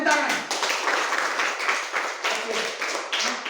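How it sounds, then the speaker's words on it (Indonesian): Rapid hand clapping from a group, steady and continuous, with voices mixed in underneath. "Oke, tepuk tangan."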